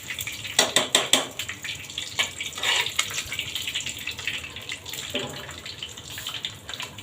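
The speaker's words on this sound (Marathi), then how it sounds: "त्याच्यामध्ये थोडं तूप टाकते." Ghee goes into a pan of cumin seeds for veg pulao, setting off a close, crackling sizzle with sharp spits that settles into a steady hiss.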